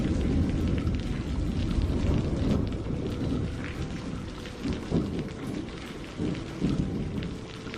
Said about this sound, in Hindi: बारिश अब और भी तेज होती जा रही थी।